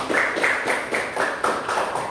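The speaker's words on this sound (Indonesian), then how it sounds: "Tepuk tangan untuk kita semuanya." A classroom of students claps hands together in a steady rhythmic pattern of grouped claps, fairly loud and continuous throughout.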